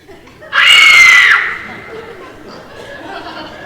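A woman's scream in a comedic radio drama, a loud, high, sustained shriek lasting about a second before cutting off into quiet background.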